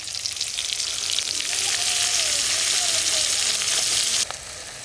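Mustard seeds and onion sizzle in hot oil for a sambar tempering in a village kitchen, a loud dense hiss that holds steady and then drops suddenly near the end, heard up close without talk.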